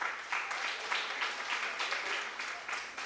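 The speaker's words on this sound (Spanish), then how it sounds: "Un aplauso para ustedes" Children at a storytelling and character-creation workshop applaud at the end of a story, a steady patter of small hands clapping in soft repeating swells, fairly faint and a little distant, with no talk over it.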